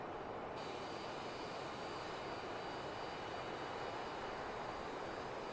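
A jet airliner's engines roar steadily in Microsoft Flight Simulator 2020, a dense, continuous broadband rumble with a faint high whine, loud and unbroken throughout with no one speaking.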